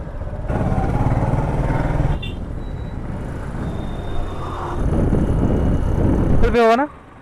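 Motorbike ride on a road with steady engine and wind roar for most of the stretch, briefly dipping, then a short spoken phrase at the end before the noise drops away.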